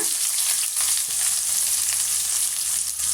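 Onions and cashews fry in a pan for tomato rava khichdi, giving a dense, even sizzle up close that runs unbroken throughout with no talking.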